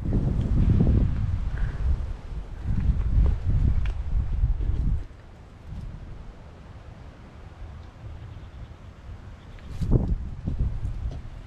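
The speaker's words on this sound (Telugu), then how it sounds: "గాలి అయితే బీభత్సంగా తోలుతుంది" Strong wind gusting in the hills near Mccarty Puram, loud buffeting rushes against the microphone that surge, drop away to quieter stretches, then gust again, with no talking.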